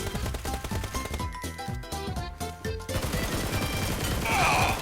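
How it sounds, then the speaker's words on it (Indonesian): Rapid game gunfire, a steady stream of sharp repeated shots with a short sparse stretch in the middle before dense firing resumes, loud and close throughout. "Ya kecilin suara tembakan lu ya"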